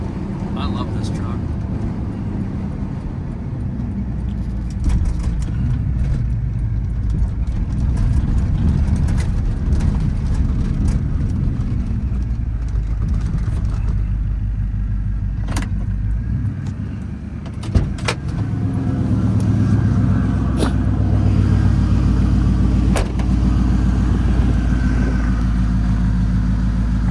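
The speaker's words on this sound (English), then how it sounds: "It's a great running and driving pickup." A 1987 GMC Sierra 1500 4x4 regular-cab pickup is heard while being driven, its engine and road rumble steady and prominent, with someone talking throughout over the drone.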